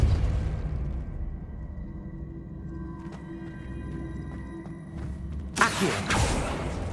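A Depulso force spell is cast in Hogwarts Legacy. A low rumbling, whooshing magical hum builds, then a sharp burst of blast noise lands near the end and lingers as a crackling tail.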